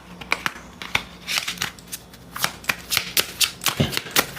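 Tarot cards are shuffled by hand in a run of close, loud riffling and slapping bursts, quick and uneven in rhythm, with no talking over them.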